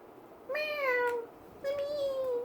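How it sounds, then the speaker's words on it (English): A cat meows twice from just outside a door, two drawn-out, clear calls separated by a short pause, with no talk. "Should I let the cat in? I want to let the cat in."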